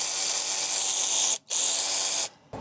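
A ratchet undoes the bolt on the wheel speed sensor of a Ram ProMaster. It gives a loud, close, whirring hiss in two bursts separated by a brief pause, then a quieter tail, with no speech.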